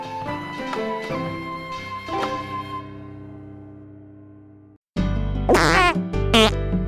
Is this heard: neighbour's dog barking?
no